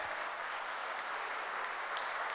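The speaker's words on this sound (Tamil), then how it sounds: "அவருக்கு மிகப்பெரிய கைத்தட்டல் கொடுக்கலான்னு நினைக்கிறேன்" A conference audience at a JCI zone convention in Vellore, India claps steadily and evenly, a dense wash of applause with no voices standing out.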